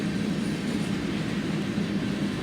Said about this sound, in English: here is the next train, which is a BNSF grainer heading